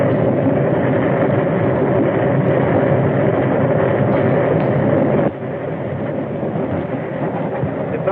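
A train from a 1932 film runs steadily along the rails, a dense, continuous rumble with a muffled old-soundtrack quality that drops slightly in level partway through and carries on without voices.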